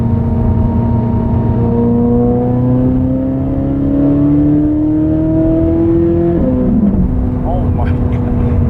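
A Corvette Z06 engine holds high revs in fourth gear, giving a loud, close, sustained drone that climbs slowly in pitch before a sudden drop as the throttle eases.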